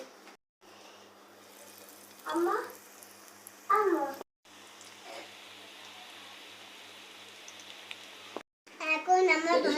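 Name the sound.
frying green banana cutlets in a pan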